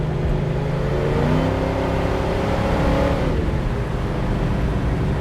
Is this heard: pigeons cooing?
no